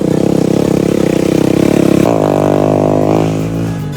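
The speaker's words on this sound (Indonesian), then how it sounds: "Ini warga juga ada yang pakai motor." A motorcycle on a mountain motorbike trail near Mount Malabar roars loud and close with a rough, pulsing engine, then its pitch shifts and fades as it passes.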